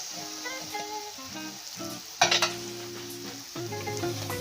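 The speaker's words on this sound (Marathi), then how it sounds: "आता आपण यामध्ये चपातीचा भुगा घालून घेऊया, जो आपण मिक्सरमधून बारीक करून घेतला होता" Leftover chapati, ground fine in a mixer, is tipped into sautéed masala in a pan and stirred. A steady sizzle and scraping run under background music, with a louder burst of stirring around the middle.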